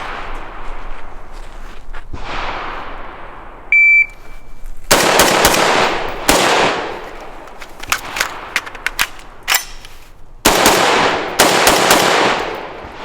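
SCAR 16S rifle fired on an outdoor carbine course, several loud close strings of rapid shots separated by pauses, with a short electronic beep near the start.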